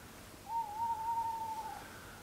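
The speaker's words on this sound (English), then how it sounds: "we've got a tawny owl at the same time" A tawny owl hoots at night, one sustained, wavering call of about a second and a half, moderately loud over a quiet background hiss with no talk.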